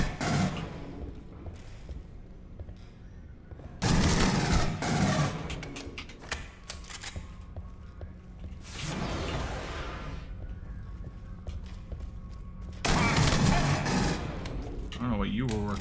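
Bursts of rapid rifle fire ring out in the Aliens: Colonial Marines video game in several long volleys separated by quieter gaps. Game sounds fill the gaps, and a voice talks intermittently underneath.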